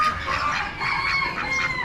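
A Barred Rock rooster at an Amish animal auction gives a drawn-out, raspy crow, nearby and moderately loud, with clucking fowl and low barn noise behind it.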